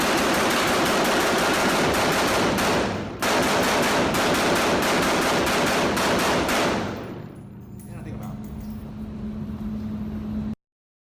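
A belt-fed machine gun fires full auto in two long continuous bursts separated by a brief gap, loud and dense, before the firing gives way to a lower rumble and quieter noise.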